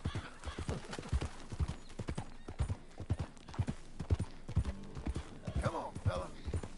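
Horse hooves clip-clop in a steady rhythm as a rider travels on horseback in Red Dead Redemption 2, with occasional neighs and snorts and someone talking over the hoofbeats.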